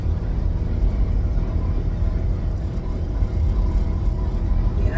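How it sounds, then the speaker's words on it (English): Inside a moving car, a steady low engine and road rumble drones continuously at close range, with a dull droning undertone and no clear talking over it. "Why does my car sound like that?"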